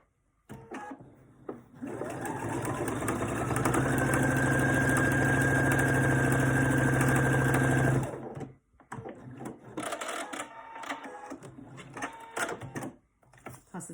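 A home sewing machine stitches a paper-pieced quilt block for a raindrops pillow in one loud, steady run of about six seconds. Shorter bursts of stitching and handling noise follow, with no talking.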